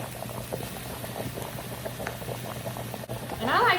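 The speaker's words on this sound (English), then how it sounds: "potatoes are nicely boiling" A pot of potatoes boils steadily on a home stove, with a continuous bubbling and popping of water close up and a low hum underneath.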